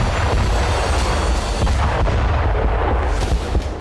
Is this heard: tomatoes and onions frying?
no